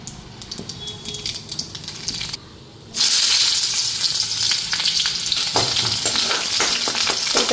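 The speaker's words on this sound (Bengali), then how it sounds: "এদিকে কড়াইতে তেল দিয়া দিছি এখন কালো জিরা আর পেঁয়াজ সম্বাদ দিয়া নি" Nigella seeds and onion dropped into hot oil in a wok, a soft sizzle that bursts into loud, sustained frying hiss with crackles and stirring sounds close by.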